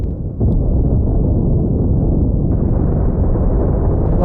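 Starship cannon fire and explosions in The Last Starship combat tournament, a dense, continuous low rumble of booming blasts that barely lets up.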